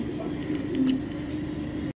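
Soft, low cooing from Mili racer pigeons sounds close by, a few muffled coos over faint background noise.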